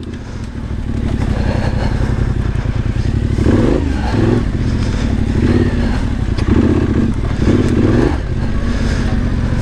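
A Yamaha Tenere 700 with a modified stock exhaust is ridden off-road through woods. The engine drones loud and steady close by, with clattering thumps and knocks from the rough ground.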